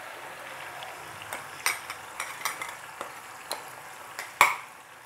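Ground powder is stirred into a bubbling tamarind gravy, with soft simmering underneath and a string of sharp spoon taps and scrapes against the pan, the last one loudest.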